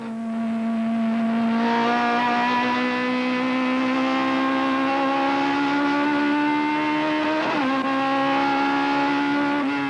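A 1992 Wesbank Modifieds Class C race at Killarney pits a Nissan Sentra against a front-wheel-drive, 120-kilowatt Toyota Sprinter. Their engines whine loudly and steadily, the pitch climbing gradually with a brief dip and lift near the end.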